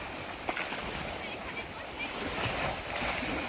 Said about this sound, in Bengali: দেখো কীভাবে নদীতে ঢেউটা হচ্ছে